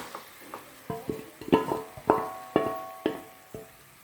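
Masala-coated chicken is stirred in hot oil for a hotel-style gravy, with a spatula striking the pan in a regular rhythm of sharp clanks over a light sizzle. Close and clear, with no voices.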